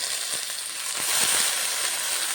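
Spinach fries in a pan with spiced potatoes, giving a loud, continuous close sizzle with a few soft stirring knocks and no voices.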